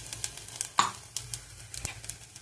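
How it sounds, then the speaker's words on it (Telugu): Vermicelli fries in ghee in a pot while a spoon stirs it, giving scattered soft scraping clicks and one sharper knock over a faint sizzle, close and quiet, with no talking. "కలర్ మారిన వరకు బాగా వేయించుకోవాలి"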